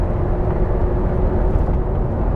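A Ferrari 430 Scuderia engine runs at a steady, deep drone, sounding fairly close and constant with no voices over it.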